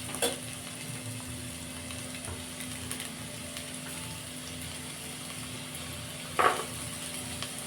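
Onions fry in peanut oil left over from roasting peanuts, a faint, steady sizzle running throughout with a single brief clank of a utensil near the end and no speech.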